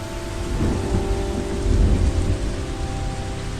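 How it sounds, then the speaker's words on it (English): Rain and thunder in the video game The Sims 3: constant hiss of rainfall with a deep rumble of thunder swelling midway, no voices. "Let's get out of the rain. It's raining."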